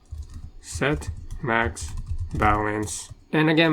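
Keys clatter on a computer keyboard during coding work, rapid light taps running beneath a man's close, clear speech.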